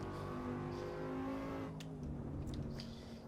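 Engine of a race car in the racing game Assetto Corsa EVO, a steady loud drone with rising harmonics that eases off midway, with a few faint tire or mechanical squeaks near the end and no talk.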